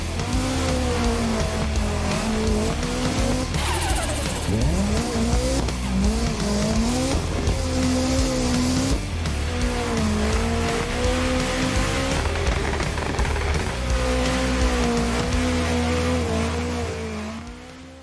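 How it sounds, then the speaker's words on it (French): A Volvo 740 Turbo drifts on an airport track: the engine revs rise and fall in long surges, tires squeal and skid through the slides, loud and continuous for the whole stretch, with no talk. "c'est parti pour un nouveau drift commenté"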